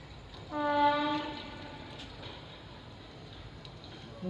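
The Koyna Express sounds its horn at Miraj Junction on platform 3, one long, loud blast lasting under a second, followed by the quieter rumble of the train and station.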